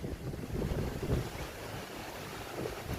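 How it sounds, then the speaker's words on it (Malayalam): Strong seaside wind at an outdoor Malaysian Indian wedding venue, gusting and rumbling across the microphone in uneven bursts, loud and close for about three seconds with no talking. "കടലോരമായതുകൊണ്ട് ഭയങ്കര കാറ്റ്, എല്ലാം മറിഞ്ഞ് വീണുകൊണ്ടിരിക്കുകയാണ്"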